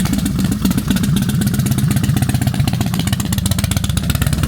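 Dirt bike engine running steadily at a Harley stunt show, a loud, close, continuous engine rumble with rapid clattering pulses, held at a fairly even level throughout without obvious revving peaks.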